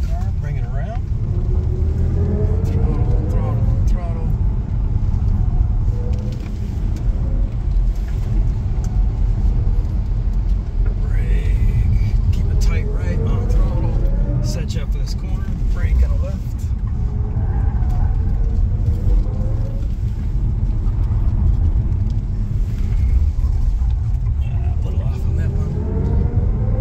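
An all-electric BMW i5 driven hard on a track, its steady low road rumble and whine continuous throughout as someone talks over it.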